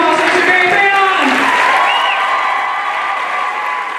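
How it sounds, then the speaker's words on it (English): An audience at a winter band concert applauds loudly and steadily, with voices and cheering mixed into the crowd noise before it slowly fades. "And one more round of applause for Mr. Barry Crayon."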